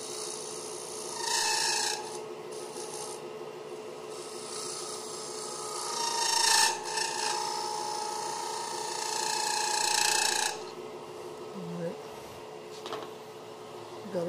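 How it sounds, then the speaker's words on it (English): A square end scraper cuts into wood spinning on a lathe, giving rasping, scraping bursts over a steady motor hum, with longer strokes near the start and middle and a few short touches later. "I come back with this square end scraper just to go straight in a little bit"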